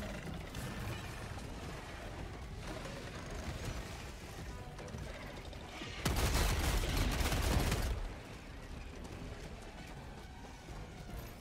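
A gas strike stratagem unleashed in Helldivers 2 during a solo fight against bugs: a loud, dense two-second burst of blasting noise erupts over a steady backdrop of mechanical clatter and scattered game gunfire.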